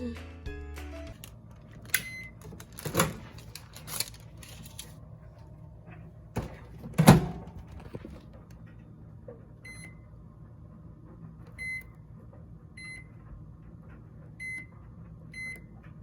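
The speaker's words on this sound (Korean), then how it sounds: "전자레인지에 스퀴시를 넣고 2분 30초를 돌려줍니다래요" A microwave door clunks shut on a squishy toy, a few beeps sound, then the oven hums steadily with a low drone and occasional quiet beeps.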